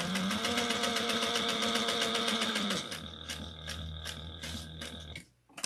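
A sewing machine running steadily while top stitching, with a rhythmic mechanical hum that drops in pitch partway through, then slows and stops near the end.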